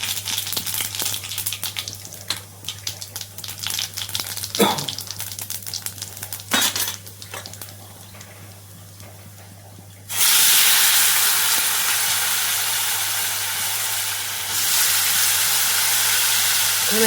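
Tindora and potato sabzi sizzles loudly as it is tempered in hot oil, a steady frying hiss with brief stirring clatters that swells sharply about halfway through and stays bright and continuous to the end.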